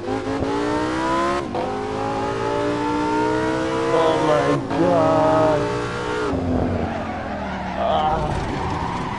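A loud Lamborghini sports car engine revs in rising and falling bursts, close by, with an excited voice exclaiming briefly over it.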